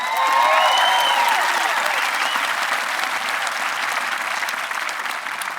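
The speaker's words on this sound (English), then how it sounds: "I'm really glad you clapped there" A large outdoor high school graduation audience breaks into sustained loud applause, a dense clapping wash that slowly tapers with a few cheers early on.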